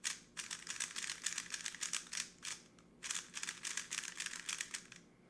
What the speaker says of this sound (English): this is a brand new GTS3. Those are actually the first turns on this cube